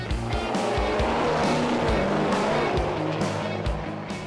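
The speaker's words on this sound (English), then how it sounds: "On the next attempt, I boosted her to only 10 PSI, and it still spun, but not as bad." A Chevy Silverado Duramax diesel truck launches down a drag strip on boost, its tires spinning, giving a loud, steady roar that holds for a few seconds with faint engine pulsing underneath.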